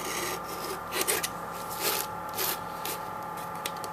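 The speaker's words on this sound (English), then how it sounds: "So now we have our piece of drywall cut" A drywall patch has its edge cut and trimmed, giving close, dry scraping and rasping strokes in short irregular bursts over a steady background hum.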